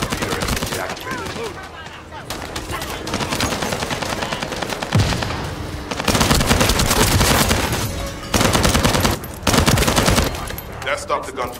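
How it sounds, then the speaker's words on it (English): Rapid automatic gunfire from the video game The First Descendant, dense bursts of shots in stretches broken by short pauses, loud and close amid game effects. "That stopped the gunfire."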